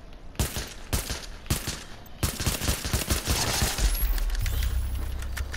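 Gunfire in The Division on PS4: a few separate single shots early on, then a denser run of rapid shots, loud and close, over a low background rumble that swells near the end.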